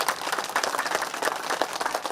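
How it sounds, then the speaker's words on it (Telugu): Dense, loud clapping from a crowd gathered for a vegetarian rally at a pyramid meditation centre, a continuous wash of many hands heard up close with no talking. "వచ్చిన వారందరికీ ఒకసారి గట్టిగా క్లాప్స్ కొద్దాం."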